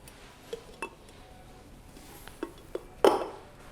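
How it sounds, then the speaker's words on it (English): An AeroPress coffee brewer is flipped over onto its vessel: a few light clinks and taps of plastic against glass, then a louder close clunk as it settles. "We're going to pop the vessel on top and we're going to flip the brewer over."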